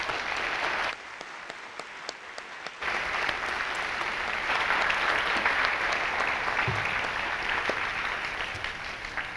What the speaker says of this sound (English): Please give our debaters a round of applause.